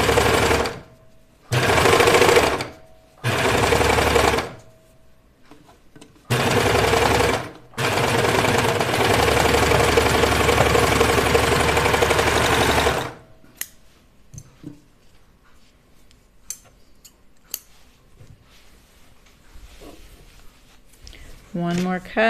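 A sewing machine stitches a sweater cuff in several loud, close bursts, first short runs with pauses and then one long continuous stretch, followed by quieter fabric handling and clicks.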